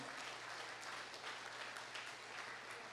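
Congregation applauding during an evangelical church family service, a steady wash of clapping from many hands filling the room, fairly faint and even throughout with no one speaking.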